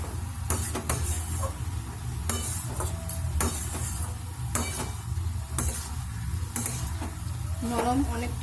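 Softened ash gourd is stirred in a pan with a utensil, giving repeated rhythmic scraping strokes over a low sizzle, fairly quiet and close.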